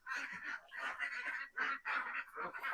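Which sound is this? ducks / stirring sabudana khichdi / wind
ducks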